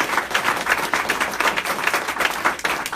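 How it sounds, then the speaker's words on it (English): Audience applause at a Youth Matters Philly launch and press conference, a dense, steady patter of many hands clapping in a room, sustained at even volume throughout. "And another round of applause"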